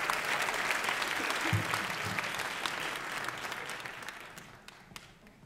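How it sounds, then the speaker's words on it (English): Audience applause at an evening Martin Luther King Jr. regional celebration, a sustained wash of many hands clapping that gradually fades toward the end. "Give them a round of applause as they exit the stage."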